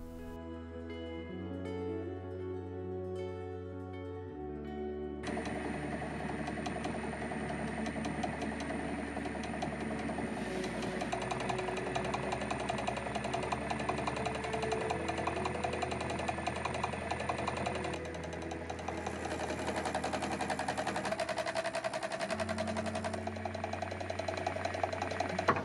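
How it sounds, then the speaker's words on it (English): A mill cutter scrapes and cuts grooves into a steel punch workpiece, a steady mechanical whir with a high whining tone and constant metallic chatter, fairly loud and continuous. "So I gently move the y-axis on the mill until the cutter just begins to scrape the surface of the workpiece"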